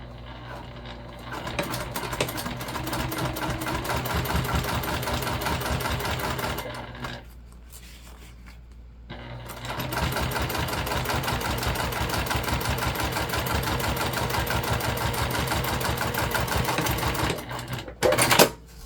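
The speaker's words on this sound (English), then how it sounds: "so we're all sewed up" Sewing machine stitching summer beach pouches with zipper tapes, a fast steady mechanical chatter running loud and close, pausing briefly partway through before resuming, then ending with a few clunks.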